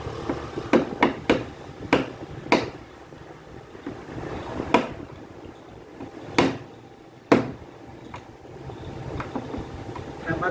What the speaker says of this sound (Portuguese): Aí você vai bater aqui, ó, nas laterais.